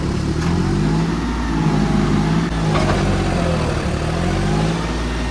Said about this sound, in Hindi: देखिए ये पूरा गाड़ी फंस चुका है